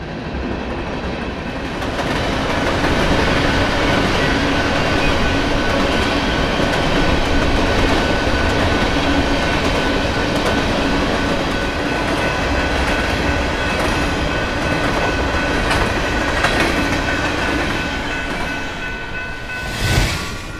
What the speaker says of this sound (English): Union Pacific runs a train of empty coal cars outbound from Chicago.